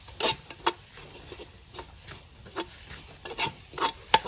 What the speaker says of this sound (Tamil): நான் கலந்து விட்டு கொஞ்ச நேரம் வறுக்க வேணும். தேங்காய் பூ வதங்க வேணும்,